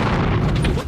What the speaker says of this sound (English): Explosions and flames lighting up the night sky.